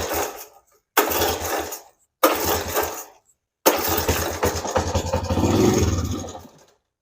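A 1977 Honda ATC 90 engine with the choke on cranks in three short bursts separated by silence, then catches and runs, its close, rattly idle rising briefly before cutting off.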